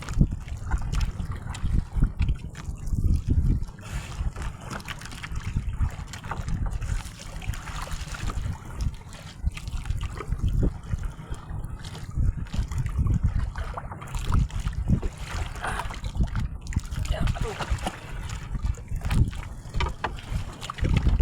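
Water sloshes and slaps steadily against a small boat in rough southwest-monsoon seas, with rumbling wind noise buffeting the microphone throughout.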